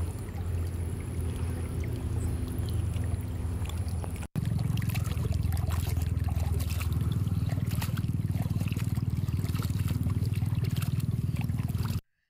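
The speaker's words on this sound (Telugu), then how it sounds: "యాదాద్రి భువనగిరి జిల్లా నందనంలో మోటార్ లేకుండానే నీరు బయటకు వస్తూ అందరినీ ఆశ్చర్యానికి గురిచేస్తోంది" Water flows out of the ground on its own, without any motor, in Nandanam, Yadadri Bhuvanagiri district. It makes a continuous close gushing trickle that drops out briefly partway through and then resumes steadily.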